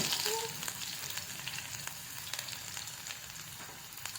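Soft, steady sizzle of ginger and garlic frying in oil, with faint crackles and pops, quiet and close, no talking.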